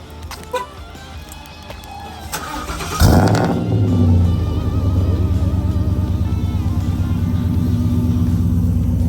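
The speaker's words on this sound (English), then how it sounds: "we got the Raptor truck, and give you guys a cold start" A Ford Raptor truck cold starts outdoors: a brief starter crank catches into a loud burst, then settles into a steady, rumbling, rapidly pulsing idle that holds for several seconds.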